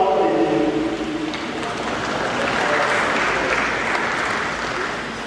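A church congregation applauds together, the clapping loud and dense at first and then tapering gradually over a few seconds.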